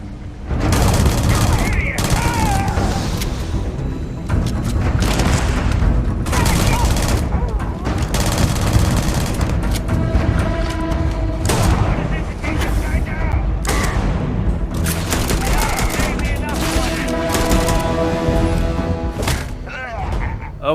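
Gunfire and explosions from combat in the space game Starfield, with sustained loud shooting, repeated blasts and booms, and a dense music score running under it throughout.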